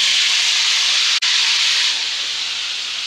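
Three medium chopped tomatoes fry in hot oil in a pan for a mutton karahi, giving a steady close, loud sizzling hiss that briefly cuts out once before continuing.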